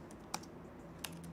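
Two isolated clicks of keys on a computer keyboard, faint and well spaced, over a low steady background hum.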